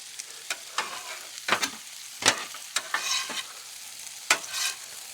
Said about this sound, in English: Make sure to toss up the onions and peppers.